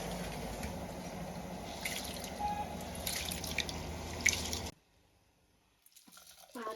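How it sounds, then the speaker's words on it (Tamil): Rice being rinsed in water in a kitchen while a pot boils, with steady splashing and dripping that cuts off abruptly near the end, leaving a short quiet gap before faint sounds return. "இப்போ அரிசியை கழுவி போட்டுடலாம்"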